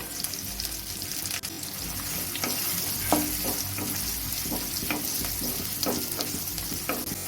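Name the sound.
garlic frying in pan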